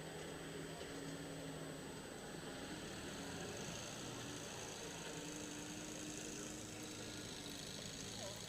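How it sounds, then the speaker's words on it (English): A John Deere 830 two-cylinder tractor drones steadily at a distance as it backs up to the sled at a barnyard tractor pull. Dense, continuous engine noise fills the whole stretch. "John Deere 830 backing up to the sled"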